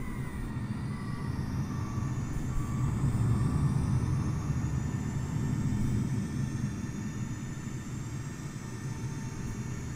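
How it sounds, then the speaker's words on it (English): Airbus A320neo auxiliary power unit spinning up in Microsoft Flight Simulator, heard from outside the aircraft as a steady loud turbine roar with rising whine tones, no voices. "Let's go ahead and turn on that APU start. Let's go outside so you can hear it."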